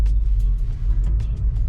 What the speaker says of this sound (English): The car doesn't rev freely when you're moving and you put it in neutral